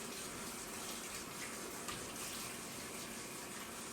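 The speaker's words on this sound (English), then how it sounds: "I have to wash my hands first" Washing hands under a running tap, a steady close rush of water throughout with faint splashing changes as the hands move.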